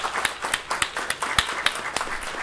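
A small audience at a candidate forum claps for the candidates, with distinct, fairly sparse hand claps close by and no talking.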